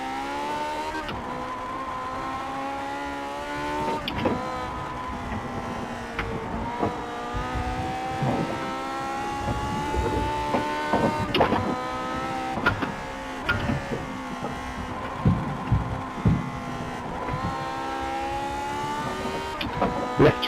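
A race car engine in a video game revs hard through a lap of Road Atlanta, its buzzing note climbing and dropping sharply with each gear change and braking zone, loud and continuous with no talk.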